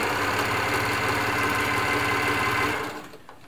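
An Elna Air Electronic TSP sewing machine stitches, its motor humming loud and steady with a fast, even needle rhythm that runs close up and then slows and stops near the end.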